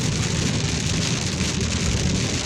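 Heavy rain pouring steadily, a dense loud roar of drops drumming on a surface with no pauses.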